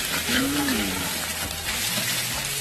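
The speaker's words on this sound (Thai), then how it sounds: "คั่วไปเรื่อยๆครับ ก่อนจะใส่พริกนะครับ" Pork stir-fries in a pan for a Lanna-style curry, giving a steady, dense sizzle with stirring scrapes throughout, and a brief voice heard over it.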